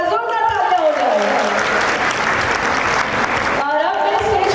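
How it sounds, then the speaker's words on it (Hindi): Audience applause at a college event, a sustained burst of clapping that rises between stretches of someone speaking over a PA, her voice at the start and again near the end. "एक बार जोरदार तालियां हो जाए।"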